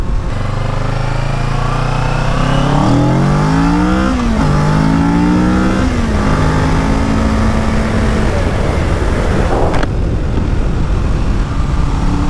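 Kawasaki Ninja 650 motorcycle accelerating hard uphill, engine revving up through several gear changes with rising whines dropping at each shift, loud and close, then settling into a steady wind-buffeted drone.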